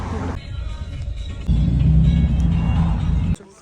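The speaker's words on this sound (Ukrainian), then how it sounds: "Куди ці тачки їдуть?" Cars drive past outside, a steady low road rumble that swells into a louder, heavier pass before cutting off abruptly, with voices heard faintly around it.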